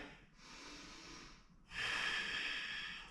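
Two long audible breaths in a yoga session, a quieter one followed by a stronger, airy, slightly nasal exhale, close but soft, with no talking.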